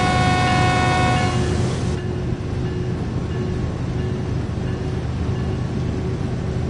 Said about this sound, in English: this horn, either part of it's broken or it's supposed to sound like that